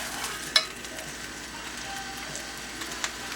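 Food sizzling in a dry granite stone pan with no oil, a faint, steady crackling hiss with a sharp clink of a utensil near the start and a few light scrapes later, no voices.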